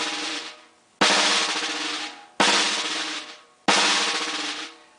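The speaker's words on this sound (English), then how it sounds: "Well, the multi-bounce sounds like this." Three multi-bounce drum rolls played with sticks on a drum, each a dense buzzing press starting sharply and fading over about a second, separated by short gaps, close and fairly loud with no talking.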